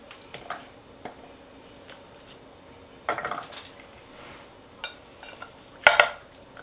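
Cubed butternut squash clattering into a baking pan, a series of soft, sparse clinks and thuds against a quiet background, with a slightly louder cluster near the end.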